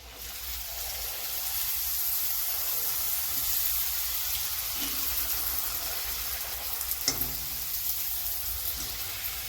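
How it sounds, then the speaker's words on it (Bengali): Fuchka puris frying in hot oil give a steady, moderately loud bubbling sizzle throughout, with a brief clatter near the end and no voices. "তেল গরম হয়ে গেছে, এবার ভেজে নেব।"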